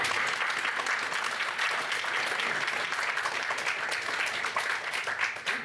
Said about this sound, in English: if we can give our panel one more round of applause